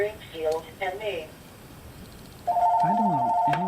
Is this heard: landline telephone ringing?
yes